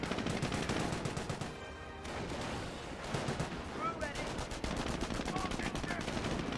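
MG42 machine gun fire in the World War II strategy game Company of Heroes crackles in dense, rapid bursts amid other gunfire and battle noise, with a brief drop in intensity partway through.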